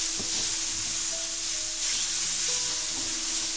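Vegan gluten-free creamy mushroom noodles, seasoned with pepper and herb salt, sizzle in oil in a pan and begin to burn. A steady, close hiss of frying holds throughout, with faint tonal hums beneath and no voices.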